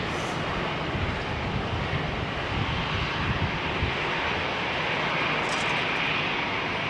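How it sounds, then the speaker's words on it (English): Jet airliner engines roar steadily at London Heathrow Airport, a loud, dense, continuous wash of broadband noise with a faint high whine, heard near and without any talk. "Mark Bar, better engine harmonics from this location."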